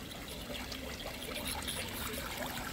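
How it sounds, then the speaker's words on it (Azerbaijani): Water trickling over a garden waterfall feature in a house courtyard, a faint, steady babbling flow heard from a short distance with no voices. "Həyətdə şəlalədə inşa olunub."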